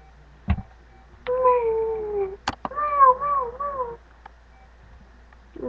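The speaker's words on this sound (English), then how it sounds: "This is my dog." A pet dog howling nearby in a home, with two sustained wavering howls separated by a short pause and framed by a few sharp knocks and thuds, otherwise quiet.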